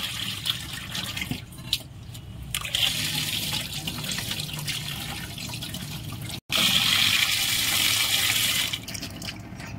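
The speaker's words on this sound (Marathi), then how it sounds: "3 पाण्याने स्वच्छ धुवून घ्यायचं।" Soaked mixed dal is rinsed under running water, a steady close splashing wash lasting several seconds, briefly cut off and then resuming louder.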